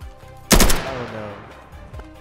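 A single loud gunshot bursts out in the Unturned survival video game, its sharp crack trailing into a ringing, decaying tail over quieter background game sounds.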